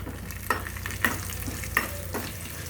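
Sesame and coriander seeds dry-roasting in a pan, a soft steady rustle with three sharp scraping stirs at regular intervals and a low hum underneath.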